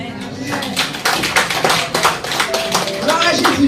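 A congregation claps along in a French evangelical church service, a steady run of sharp hand claps that continues throughout, mixed with voices.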